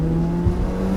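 A car engine holds a steady, loud, droning rev at sustained speed, close and continuous for a moment with a slight surge midway.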